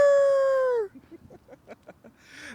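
A human voice imitates a rooster's crow with one loud, drawn-out call that drops in pitch at the end, followed by quiet scattered clucking-like sounds and a brief faint call.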